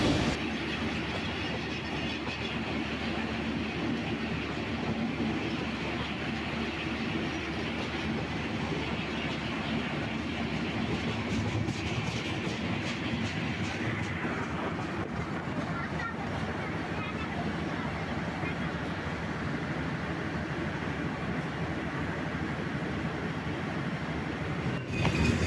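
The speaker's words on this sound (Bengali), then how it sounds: "রংপুর এক্সপ্রেস পাসিং হচ্ছে, উত্তরবঙ্গের ট্রেন, মিটার গেজ।" The Rangpur Express, a meter-gauge passenger train, rolls past a level crossing in northern Bangladesh with a steady, loud rumbling roar and rail clatter, fading slightly toward the end.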